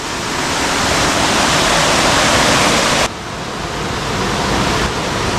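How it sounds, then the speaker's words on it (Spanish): Waterfall at the Molino de San Pedro on the Cabriel river roaring as a loud, steady rush of falling water, close and continuous with a slight drop partway through. "Vamos a probar las aguas de la cascada del Molino de San Pedro,"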